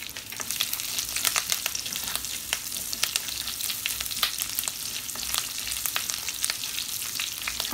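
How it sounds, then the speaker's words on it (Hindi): Dal and curry leaves sizzle and crackle in hot oil in a frying pan, a steady close hiss with dense sharp pops throughout, no voices. "जब इसमें दाल को पिंक कलर आ जाएगा तब हम इसमें डाल देंगे करी पत्ते"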